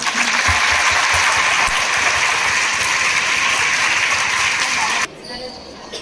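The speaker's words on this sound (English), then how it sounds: "let us appreciate them by giving a big claps for them" An audience claps for fancy dress competition participants, broad steady applause that holds for about five seconds and then cuts off abruptly into quieter room sound, with some voices underneath.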